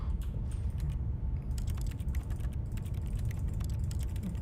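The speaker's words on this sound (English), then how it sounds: "He's just typing while doing nothing." A character in The Stanley Parable types on a computer keyboard, a continuous run of soft, rapid key clicks over a low background hum, fairly quiet and steady throughout.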